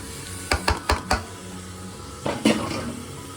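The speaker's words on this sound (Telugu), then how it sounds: "ఉల్లిపాయ ముక్కలు వేసేసుకున్నాం" Sliced onions frying with bitter gourd pieces in a pan: a quick run of four sharp metal spatula clanks against the pan, a pause with a faint sizzle, then a couple more scraping knocks.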